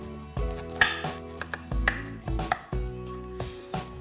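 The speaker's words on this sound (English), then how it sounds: "I'm gonna start by peeling, coring, and slicing up my pears." Pears are sliced with a knife on a cutting board, giving a series of close, crisp cuts and board taps at an uneven rhythm. Low thuds and faint resonant background tones sit underneath, with no talking.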